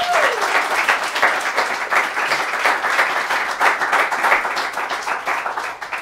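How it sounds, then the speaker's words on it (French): A live audience claps in sustained, dense applause at a comedy talk show taping, steady and loud throughout with a brief cheer at the start. "tout le monde applaudit"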